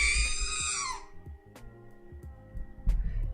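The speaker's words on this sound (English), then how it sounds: "you should hear some sort of crazy scream" A shrill, wavering scream sound effect plays on clicking an Adobe XD Star Wars-style interface prototype, loud and sustained for about a second before cutting off, followed by quieter interface clicks and low rumbles.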